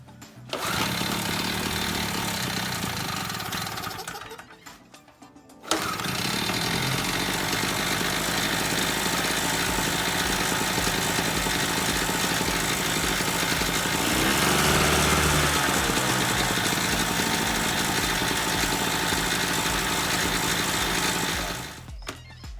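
A Harbor Freight 2 hp generator's small gasoline engine runs at a steady buzzing drone, cuts out briefly, then restarts and keeps running loud and close before stopping near the end.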